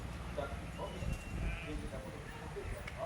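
Sheep bleating in a grazing flock chased by dogs, several faint, scattered bleats over a low, noisy outdoor rumble, with a person talking throughout.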